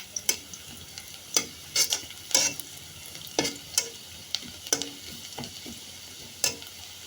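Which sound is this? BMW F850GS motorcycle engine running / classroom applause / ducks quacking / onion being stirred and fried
onion being stirred and fried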